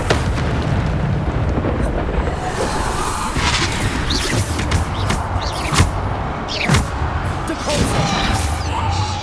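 Bombarda spell explosions in Hogwarts Legacy combat, several loud booming bursts and crashes spread through a dense, noisy battle, with a voice calling out briefly.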